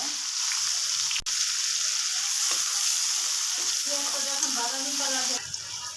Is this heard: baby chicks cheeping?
no